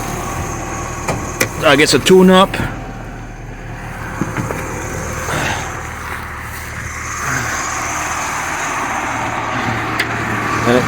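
A Mini Cooper S John Cooper Works engine idles in cold weather after repairs, a steady low drone running throughout, with a short burst of talking near the start over the motor.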